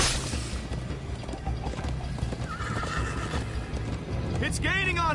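Horse neighing and hooves clip-clopping in a Minecraft Story Mode chase scene, with game music, rumbling effects and voices talking throughout; a sharp whinny rises near the end.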